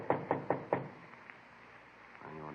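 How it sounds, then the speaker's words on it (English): Four sharp knocks on a door in an apartment building hallway, evenly spaced and close, followed by a quiet pause and a faint murmur of voices. "Frank and I went up to the 4th floor and knocked at the door."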